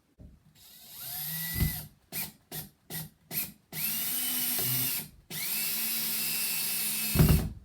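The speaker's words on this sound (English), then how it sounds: "We're just gonna drive this screw right into the stud, right into the pilot hole that we already created." Power drill driving a screw through a pilot hole into a wall stud while mounting a wire closet shelf support, close by, with a long whine, several short bursts, then two more sustained runs.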